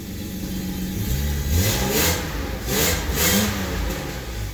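A BMW 750iL E32 engine running after a new fuel pump was fitted, a steady close mid-pitched drone that swells in two smooth revs before settling back, with no talk.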